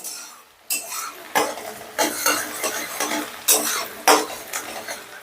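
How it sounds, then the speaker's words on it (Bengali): Chopped garlic fries gently over low heat while a utensil stirs it around a pan, making a series of distinct scraping strokes and clinks over a soft sizzle, with a brief quiet gap at the start. "রসুনটা একটু নাড়াচাড়া করে নিয়ে দিয়ে দিচ্ছি আমি কাঁচা লঙ্কা কুচি"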